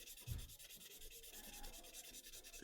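Steady, soft rubbing of fine sanding on a vintage Entex Mercedes-Benz 300SL plastic model car body, a continuous scratchy hiss with a slight thump near the start.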